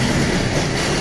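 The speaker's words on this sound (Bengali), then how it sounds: "তো এই হচ্ছে আমাদের সেই ট্রেন" A train at Kamalapur railway station gives a loud, steady rumble of rolling rail cars with faint wheel clatter. It is close and continuous through a brief moment with no voices.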